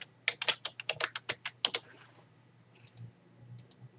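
Rapid keyboard typing with crisp clicking keystrokes, about a dozen quick taps in a steady burst over two seconds, followed by a few softer, scattered clicks over a low hum; close and fairly quiet.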